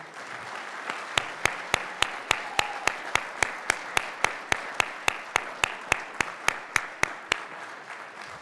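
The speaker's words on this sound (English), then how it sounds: "If we can give them a round of applause, please." At a board of directors meeting, a group in a room claps in a sharp, steady rhythm, roughly three claps per second, for about seven seconds over faint background crowd noise.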